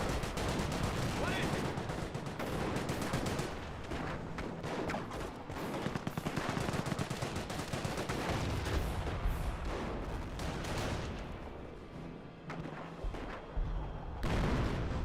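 Steady small-arms and machine-gun fire from an infantry squad in the strategy game Company of Heroes, with dense overlapping bursts, occasional heavier booms, and a narrator talking over the battle throughout.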